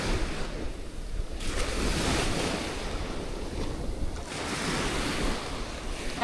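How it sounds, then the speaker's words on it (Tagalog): Ocean surf rushes and crashes continuously on a Boracay beach, with waves swelling and breaking over strong wind noise on the microphone. "Medyo malakas yung alon ngayon."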